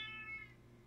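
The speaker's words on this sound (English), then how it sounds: "Listen to cat noises if you want." A single short cat meow from a video game, clear and close, tapering off within a second over a low steady hum.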